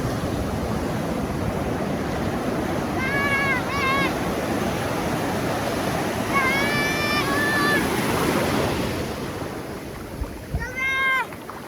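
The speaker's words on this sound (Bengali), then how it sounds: "সমুদ্রের গর্জনগুলো শোনা যায় এখান থেকে" Sea surf roars continuously on a Saint Martin's Island beach, a loud, dense wash of breaking waves with brief whistling bird calls over it.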